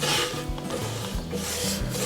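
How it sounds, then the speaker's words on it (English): Soft sandpaper rubbing over rough sapwood in steady back-and-forth strokes, a close, continuous rasping with a regular rhythm of about three passes, heard alone. "I do unfortunately have these rough sections that just won't come smooth, no matter how gentle I am with really soft sandpaper"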